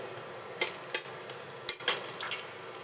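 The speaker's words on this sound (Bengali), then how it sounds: "বড়িগুলো আমি ভেজে নিচ্ছি, লাল লাল করে ভেজে তুলে রাখবো।" Lentil dumplings (bori) fry in oil with a close, crackling sizzle, broken by a few sharp scrapes and stirring clicks.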